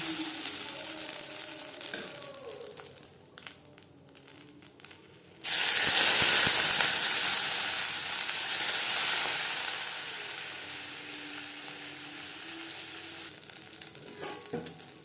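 Two ladles of parboiled-rice batter for chitoi pitha are poured into a hot pan, setting off a sudden loud hissing sizzle that slowly fades. Faint clinks come before the pour.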